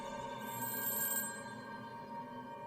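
An old-style telephone bell rings in a quick metallic trill that then fades into a lingering tone, heard alone and fairly quiet.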